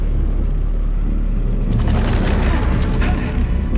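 A loud, deep explosion in Atomic Heart, a heavy low boom that rolls on as a sustained rumble across the whole stretch, with a brighter crackling burst joining partway through.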